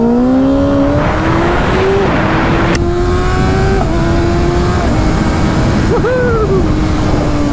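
A loud motorcycle engine revs with a rising pitch, then drops and climbs again through downshifts and rev-matching, sustained throughout at close range.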